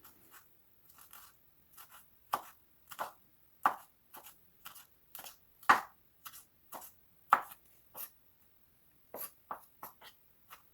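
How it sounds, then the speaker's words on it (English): A kitchen knife finely chops a green chili on a board, producing a quiet, irregular series of crisp taps, some in quick clusters and others spaced apart, with no talk. "Remove the stem and finely chop the chili"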